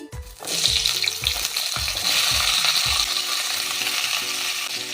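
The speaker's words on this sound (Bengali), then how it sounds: "আমি কিছু সবজি ভেজে নেব।" Papaya, pointed gourd and beans fry in a pan with a steady, loud sizzle, while stirring clatters through it in several clear knocks early on; no one speaks.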